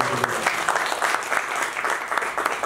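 Members of parliament applaud in a chamber, a thick, continuous patter of many hands clapping together at a steady, fairly loud level throughout.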